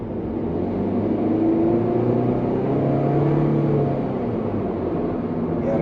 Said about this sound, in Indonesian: kita gas sedikit aja mungkin